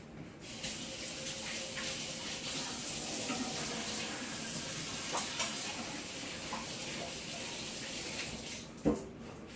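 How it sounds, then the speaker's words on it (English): Steady running tap water pours into a sink as hands are washed in a kitchen during preparation of brown stewed chicken, a constant hiss lasting throughout with a brief clatter near the end. "I'm gonna go ahead and wash my hands."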